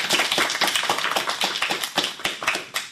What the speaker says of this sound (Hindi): तो बच्चों जोरदार तालियां।